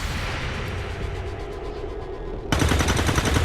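Gunfire in the XCOM 2 video game: a loud sustained burst of rapid shots that suddenly erupts into a harsher, denser barrage, heard alone without talk.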